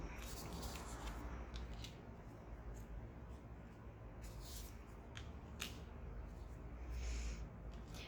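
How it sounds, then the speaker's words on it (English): Tarot cards are shuffled by hand in a steady, soft, continuous riffling and rustling, with brief crisp snaps of card edges, close and quiet. "Let me give it another shuffle as well"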